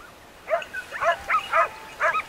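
Several sharp hunting dog barks in quick succession while driving game through scrubland during a montería hunt in Alcoba, Spain, moderately loud and somewhat distant, with short pauses between them against a quiet outdoor background.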